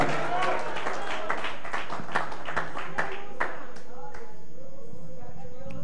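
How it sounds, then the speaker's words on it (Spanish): A church congregation claps for the Lord during a worship service, with a steady patter of hand claps under a preacher's voice speaking throughout. "Denle un aplauso al Señor en esta hora"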